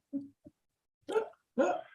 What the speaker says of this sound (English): Oh, a real sneeze.